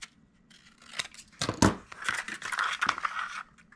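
Scissors trim paper for a 12-inch jumbo rosette party decoration: a few close, crisp snips and crinkly cuts bunched together, fairly quiet overall, with no voices.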